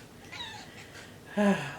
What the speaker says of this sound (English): I'm sure you can hear my cat